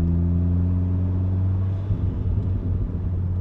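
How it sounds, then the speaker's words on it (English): A 2018 VW Golf R MK7.5 with a Stage 1 tune idles in manual mode with its exhaust burbling, a deep, steady rumble that turns into uneven popping near the end. "I'll go back to manual mode here and shift on third. So just the Burble on."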